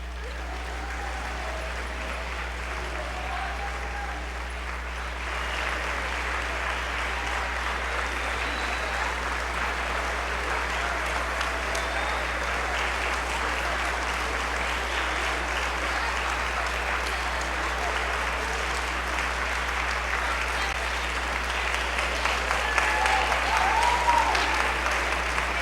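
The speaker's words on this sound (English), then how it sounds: "You can keep clapping." Sustained audience applause fills a school gymnasium or hall at a Hellstern Middle School band Christmas concert, steady and broad throughout with a few louder claps swelling near the end.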